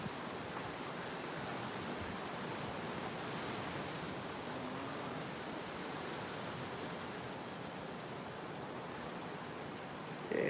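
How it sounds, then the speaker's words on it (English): Storm wind gusts push bursts of cold air in a steady, broad rushing roar that swells gently like surf, with no voices. "Sounds like waves crashing, but it's bursts of cold air"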